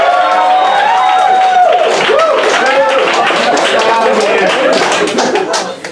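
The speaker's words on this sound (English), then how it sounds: "Everyone, please give a warm round of applause for David" A comedy club audience at Canterbury House greets comedian David Sposito with loud, dense clapping and whoops; the applause holds steady and begins to fade at the very end.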